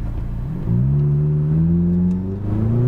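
A McLaren 570S on a race track pulls hard, its engine note climbing steadily in pitch with a brief step partway through as it shifts up. The engine sounds loud and close throughout.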